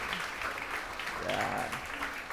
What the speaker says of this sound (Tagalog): palakpakan po natin si Jesus